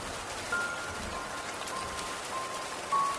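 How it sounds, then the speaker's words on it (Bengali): Rain falls at night in a steady, dense patter on surfaces, a continuous wash of close drops that swells slightly near the end, with no voices. "রাত হতে বৃষ্টির বেগ আরো বেড়েছে।"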